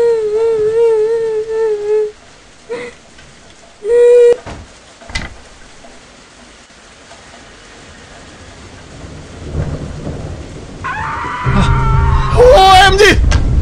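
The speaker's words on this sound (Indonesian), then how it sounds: "Dari mana asal suaranya ini hujan?" Rain in the Indonesian horror video game Sundel Bolong Revenge swells into a steady, fairly loud hiss in the second half, following game tones and a few sharp thumps, with a voice heard alongside.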